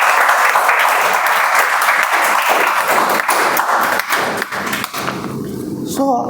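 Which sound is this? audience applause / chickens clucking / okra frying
audience applause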